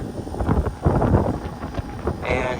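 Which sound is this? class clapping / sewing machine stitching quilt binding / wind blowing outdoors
wind blowing outdoors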